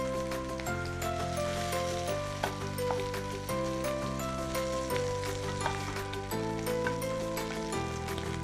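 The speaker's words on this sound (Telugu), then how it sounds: "వేగంగానే వేగిపోతాయి బీన్స్, మరి ఎక్కువ టైం కూడా పట్టదు" Beans fry in a pan for spicy Schezwan beans, giving a steady, even sizzle that runs throughout, partly masked by prominent background music.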